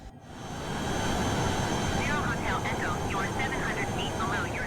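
A Honda Jet 2.0 E2 in Microsoft Flight Simulator descends with its engines giving a steady, moderate hum, while a voice talks over it.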